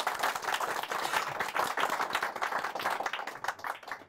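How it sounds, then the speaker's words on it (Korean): Audience applause at a Korean book forum author event, a dense, steady burst of many hands clapping close by, fading out at the end, with no talk over it. "요즘은 이제 박수 부탁드리겠습니다."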